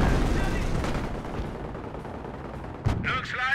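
Battle noise from the WWII strategy game Company of Heroes, distant rumbling gunfire and shots under in-game unit voices, moderately loud and continuous.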